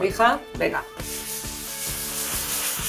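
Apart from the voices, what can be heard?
hand sanding wooden furniture pieces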